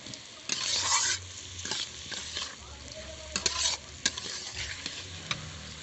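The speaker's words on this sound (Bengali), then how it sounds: "একসঙ্গে ভালো করে নেড়ে দেব।" Spinach with a little sugar and fried lentil bori being stirred in a frying pan: a steady close sizzle with repeated scraping and clattering strokes of the spatula.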